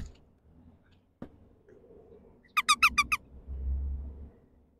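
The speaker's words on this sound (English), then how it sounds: "Maybe use the squeaker." A squeaky dog toy gives five quick, bright squeaks in a row during outdoor play with a dog, standing out clearly over low background rumble.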